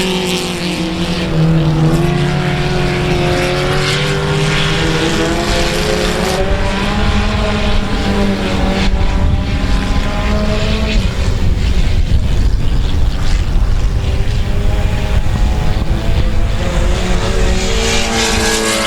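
Race cars roar around the South Texas Speedway oval, loud engines held at high revs with rising and falling pitch as several cars run close together, continuous throughout.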